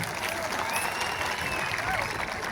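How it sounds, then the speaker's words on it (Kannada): A crowd claps loudly and continuously at a village wrestling event in Ankali, the applause dense and steady throughout, with crowd noise mixed in. "ಜೋರಾಗಿ ಚಪ್ಪಾಳೆ ಬರಲಿ ನಿಮ್ಮೆಲ್ಲರನ್ನ"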